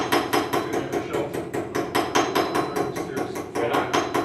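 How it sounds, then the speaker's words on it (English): A hammer strikes a curved metal piece to take the bend out of it, delivering a fast, steady run of about twenty sharp, ringing blows, loud and close with no talking. "So why am I hammering over a curved piece?"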